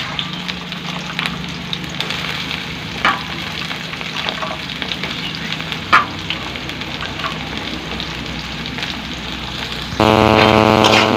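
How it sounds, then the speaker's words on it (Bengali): Soybean chunks fry lightly in a pan at home, giving a steady close sizzle with occasional stirring scrapes, and a louder, harsher burst of frying noise near the end. "আমি সোয়াবিনগুলো একটু হালকা করে ভেজে নেবো"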